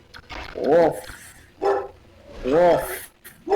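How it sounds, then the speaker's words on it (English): A dog barks outdoors at night, heard from inside: a few loud, deep woofs in separate bursts with pauses between them. "That is my dog woofing up there."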